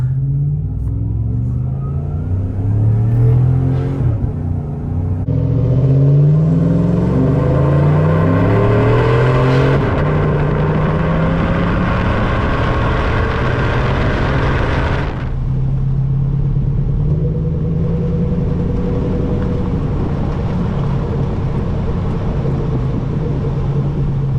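A 2007-2018 Chevrolet Silverado 1500 pickup with a stainless catback exhaust revs hard at full throttle, its exhaust note climbing in pitch through gear changes, loud and near, then easing off toward the end.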